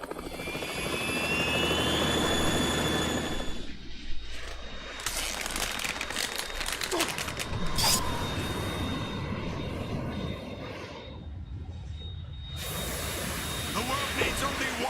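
A Harrier jet in the video game Metal Gear Solid, a loud, continuous roaring engine drone with thumping rotor-like pulses, briefly dipping and cutting out between surges.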